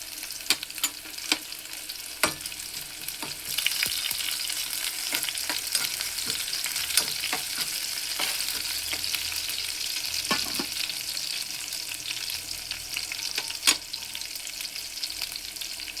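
Onions frying in a pan for Muslim-style wedding dalcha, with a steady close sizzle, punctuated by occasional sharp pops and stirring scrapes.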